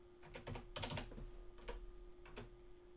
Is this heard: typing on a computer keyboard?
yes